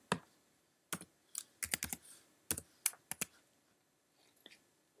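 Numbers being keyed into text boxes on a computer keyboard, heard as scattered bursts of sharp, close key clicks in small clusters with brief pauses between them, no talking.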